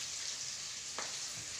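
Garlic and ginger fry in a wok with a steady, quiet sizzle and hiss throughout, with one brief soft scrape of stirring.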